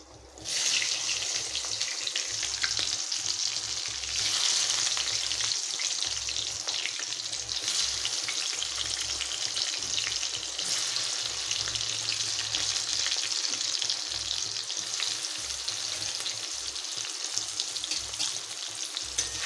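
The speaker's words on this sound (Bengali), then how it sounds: "আলুগুলো একদম লাল লাল করে ভেজে নিতে হবে, একদম ব্রাউন ব্রাউন কালার যেন চলে আসে।" Potatoes frying in a pan with turmeric and salt, a steady bright sizzle that holds nearby and fairly loud throughout with no talk.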